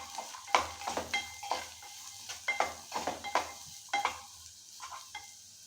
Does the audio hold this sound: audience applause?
no